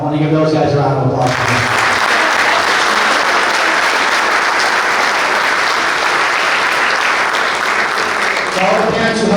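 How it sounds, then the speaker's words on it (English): A crowd at a youth boys' lacrosse banquet gives the coaches a loud, sustained round of applause that fills the room, with a voice briefly heard at the start and end. "I want to give those guys a round of applause."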